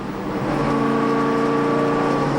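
A NASCAR stock car engine on an honor lap at the Auto Club Speedway in Fontana holds a steady, droning tone at moderate loudness, with no speech.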